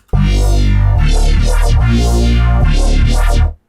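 Synth chords blended with an electronic bass through an inverted-polarity parallel Soothe 2 chain and glue compressor, a loud dense sustained tone with sweeping harmonic movement over a few phrases, no voices.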